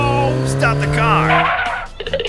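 A car skids hard to a stop with a long tire squeal and engine noise, while a voice shouts over it, in a cartoon road construction scene.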